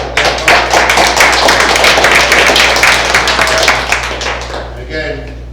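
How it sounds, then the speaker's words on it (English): Loud, sustained round of applause from a gathered audience at a student government parliament meeting, steady clapping for several seconds before tapering off near the end. "Round of applause for Dan"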